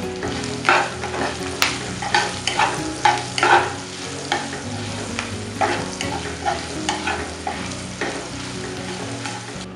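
Chopped green chillies and broken dried red chillies sizzle in hot tempering oil for a homemade Koli-style dal, a steady fry punctuated by sharp scraping stirs and clinks of the spoon against the pan.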